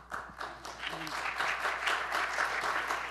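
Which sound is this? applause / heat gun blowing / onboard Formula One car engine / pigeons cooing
applause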